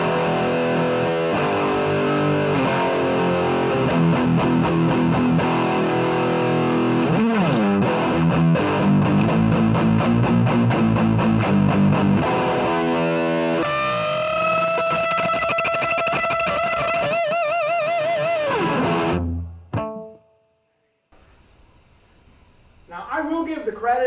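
A cheap used Epiphone electric guitar rings out through heavy distortion, playing loud sustained chords and riffs for about twenty seconds before cutting to near silence, then a brief return of noise.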